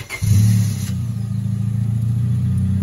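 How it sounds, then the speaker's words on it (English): A 1998 Honda Civic with no muffler starts up and settles into a loud, raspy, unmuffled idle, a steady close low drone after a brief cranking burst. "this is how a 1998 Honda Civic sound with no muffler"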